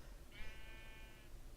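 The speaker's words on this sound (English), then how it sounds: "Why do I hear sheep?" A single sheep bleats once in a quavering, fairly faint call lasting about a second over a low background hiss.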